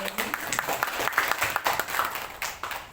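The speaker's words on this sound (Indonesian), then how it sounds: "Kita kasih tepuk tangan yang meriah dulu untuk Bu Eri." An audience at a school event gives a presenter a round of applause, with dense, fairly loud clapping lasting throughout.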